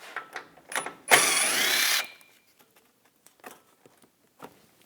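A 10mm ratchet socket backing bolts out of the front shield on a Buick Encore, with a one-second burst of rapid ratchet clicking amid scattered light taps and clicks of handling parts.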